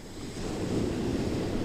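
Ocean waves breaking on the shore at sunset, a steady rushing surf with a slowly building swell and some wind noise, continuous and close.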